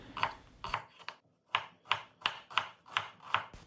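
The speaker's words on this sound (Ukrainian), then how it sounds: "Почищену і помиту цибулю нарізаю півкільцями." A knife chops steadily through onion on a cutting board, crisp evenly spaced cuts close by after a brief pause.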